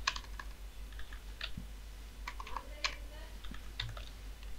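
Typing on a computer keyboard while entering VBA code in Excel: quiet, irregular bursts of key clicks close by over a low background hum.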